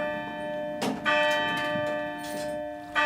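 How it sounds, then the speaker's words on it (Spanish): A bell rings out in old ruins with a bright, sustained metallic tone, two distinct strikes about two seconds apart, each leaving a long resonant hum that lingers between them. "Y sonó una campanada, y otra, y luego otra, hasta 11."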